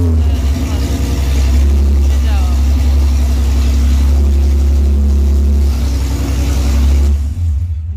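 Audi S3 8P with a new engine and factory exhaust, likely no catalytic converter, runs loud and close with steady deep engine drone and revving swells for about seven seconds, then cuts off abruptly near the end, with voices in the background.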